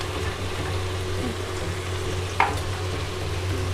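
Vegetables for chowmein sizzle and fry in a rice cooker as they are stirred, a steady soft frying hiss with one brief scrape partway through.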